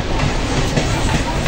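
A suburban train slowing as it arrives at Virar station, a loud continuous rumble and rattle of the carriages heard from inside with a faint hiss, steady for the whole stretch.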